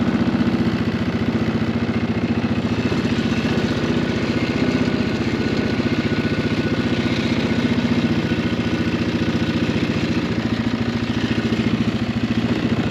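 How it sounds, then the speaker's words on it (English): A small engine idles steadily nearby, a constant low chugging rumble with a slightly fast, even pulse throughout, idling a little too fast. "I just had to adjust the idling. It was idling a little bit too fast."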